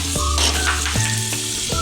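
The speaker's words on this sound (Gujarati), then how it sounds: "તો આપણા મસ્ત એટલે મસ્ત બી તળાઈ ગયા છે।" Peanuts frying in a hot pan of oil for sabudana khichdi give a steady close sizzle, with a few brief stirring scrapes breaking through.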